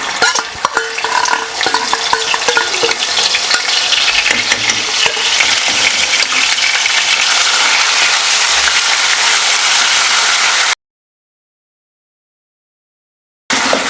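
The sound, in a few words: frying cloves, cinnamon, fennel and ginger garlic paste for mutton fry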